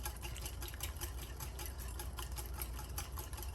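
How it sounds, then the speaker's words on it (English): Olive oil being whisked into a barbecue mustard marinade in a bowl, a steady fast rhythmic scraping and clicking of the whisk, close and moderately loud with no talking. "I'm going to whisk that together."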